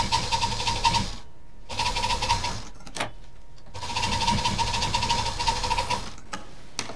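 A sewing machine stitches a bag's lining and zip in two long steady runs, with a short pause and a brief burst between them, loud and close with no talk over it.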